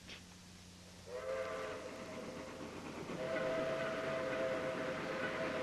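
A train whistle blows in long steady tones over a rumbling, rolling train noise that grows louder toward the end.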